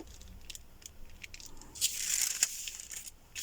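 Hair removal wax seal pulled up off paper, giving soft crinkling and tearing rustles, with a louder sustained peel near the middle, close and quiet, no talking.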